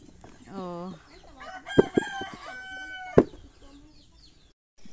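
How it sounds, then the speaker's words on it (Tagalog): A brooding hen clucks and gives drawn-out calls nearby during a sweet potato harvest, with a few sharp knocks and some faint voices in the background. "May naglilimlim doon na manok."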